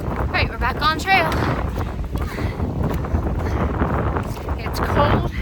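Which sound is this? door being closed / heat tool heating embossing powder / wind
wind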